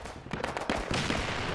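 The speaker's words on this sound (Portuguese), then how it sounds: "Se o inimigo botar as caras, eu vou dar um tiro acerteiro na headshot." Gunfire in the Roblox war shooter Operation Overlord comes as rapid bursts of shots, loud and dense over busy battle noise in the background.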